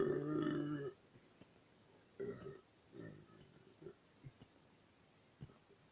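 Several burps after drinking root beer: one long loud belch, then a few shorter, fainter burps spaced apart in a quiet room.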